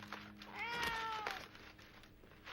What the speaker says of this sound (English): But you mean you brought a cat with you?